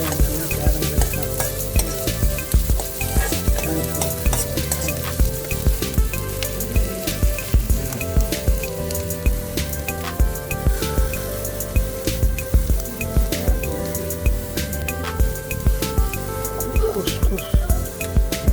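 Mustard seeds, two chillies, curry leaves and onion frying in a pan for khus upma, a steady dense sizzle with crackling pops running throughout, fairly close and loud with no talk over it.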